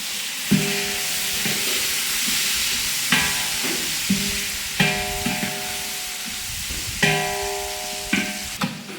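Coriander and mint leaves sauté in a hot pan for a spiced rice dish, giving a steady sizzle with periodic scraping stirs of a spoon against the pan, close and fairly loud, with no talking.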